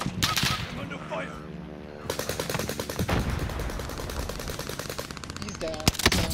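Rapid automatic gunfire from a Warzone match on Caldera rattles almost without pause throughout, dense and close, with brief voices and chatter under the steady volleys.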